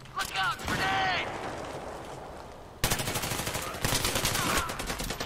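Loud bursts of automatic gunfire in the video game Battlefield 3, fast rattling volleys broken by a short lull, with a voice audible in the mix.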